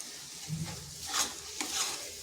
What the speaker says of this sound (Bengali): ঢাকা খুলে আবার কিছুক্ষণ এইভাবে নেড়ে চেড়ে একটু মানে শুকনো শুকনো করে নিতে হবে